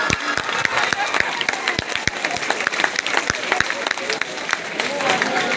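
Audience clapping at a Hindi speech event, dense and steady throughout with sharp individual claps standing out, fairly loud and close, crowd murmur mixed in beneath.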